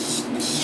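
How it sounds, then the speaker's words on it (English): Cooking spray hisses onto a cupcake pan in one steady, close burst lasting under a second, with no talking. "I'm gonna spray my cupcake pan."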